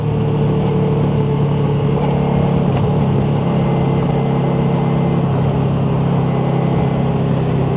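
A car engine drones steadily from inside the cabin as it drives and accelerates around a corner in third gear, a loud continuous hum with slight shifts in pitch and no clear gear change.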